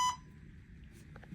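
A single short electronic beep from a device at the start, fairly clear, followed by faint high tones and quiet room noise.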